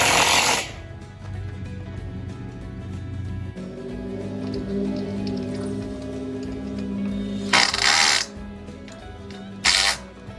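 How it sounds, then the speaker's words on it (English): A power drill whirs steadily at close range, with three short, loud bursts of grinding as self-drilling sheet metal screws bite in. "using self-drilling sheet metal screws"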